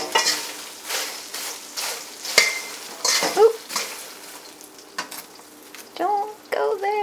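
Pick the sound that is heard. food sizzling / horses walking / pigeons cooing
food sizzling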